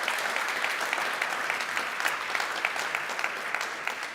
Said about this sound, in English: Can you give a very warm round of applause to these great success stories?